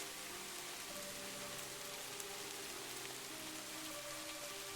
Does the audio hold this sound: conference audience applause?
no